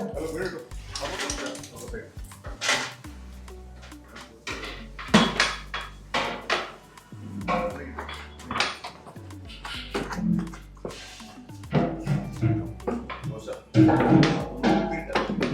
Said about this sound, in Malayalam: ഇതൊന്ന് ഇളക്കി ഒന്ന് ഉടച്ചെടുക്കുന്നത്